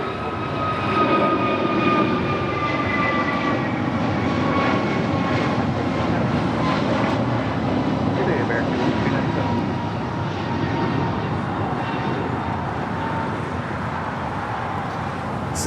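Heavy airliners taxiing on the south side of LAX produce a continuous, loud jet engine roar and whine that holds steady throughout, broad and close with no break.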